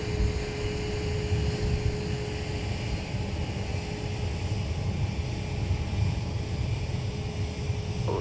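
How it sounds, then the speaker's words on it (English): An airliner rolling for takeoff from runway 17 at Minneapolis–St. Paul airport, a steady low engine roar with a thin whining tone, heard from a distance and holding level throughout. "runway 17, clear for takeoff"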